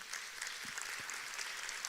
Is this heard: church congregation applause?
yes